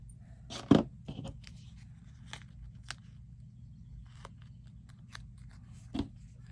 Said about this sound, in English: So I just clip it off.